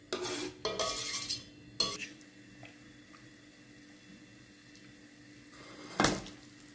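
Onions sautéing in oil and chicken fat in a soup pot, stirred with a utensil; scraping and clattering bursts at the start, then a steady soft sizzle with another loud stir near the end.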